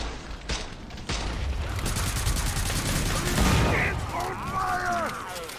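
Rapid gunfire from the video game Killing Floor 2: a dense, loud continuous burst of shots that swells and then gives way to whistling, whooshing effects.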